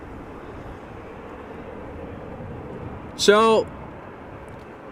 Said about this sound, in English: there's another Embraer coming in